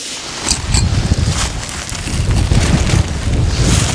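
Strong wind buffets the microphone outdoors while pitching an ultralight tent, a loud, continuous rumbling roar with gusts rising and falling throughout.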